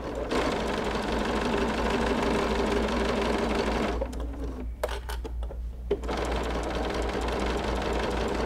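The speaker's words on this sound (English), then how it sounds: "I'm just gonna use a straight stitch all the way around this." A sewing machine runs a steady straight stitch with a walking foot, binding the edge of a cuddle and minky quilt. The motor drones close and continuously, with a brief pause and a few small clicks partway through.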